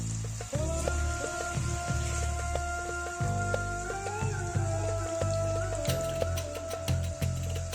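Pumpkin and chana dal sautéing in a pan, a steady close sizzle and crackle of frying throughout with occasional stirring scrapes and no talking.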